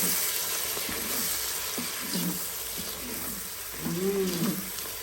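Meat sizzling in a pan with salt and spices, stirred now and then with soft scraping, a steady fry hiss running under occasional low background noises.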